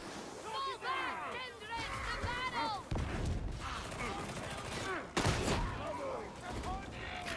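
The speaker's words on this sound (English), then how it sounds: "There's something satisfying about using the shotgun." Shotgun blasts in the game Warhammer 40k Darktide, heavy booming shots landing a few seconds apart amid chaotic combat noise, with a voice talking over the action.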